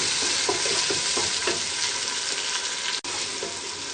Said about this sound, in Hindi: अब हम इसमें टमाटर शामिल करेंगे। टमाटर गलने तक हम इसको इसी तरीके से पकाएंगे।